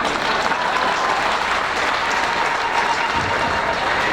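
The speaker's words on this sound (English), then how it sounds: "A big round of applause" Steady, dense applause from a large audience fills an opening ceremony hall for a university innovation hub, loud and continuous throughout with no break.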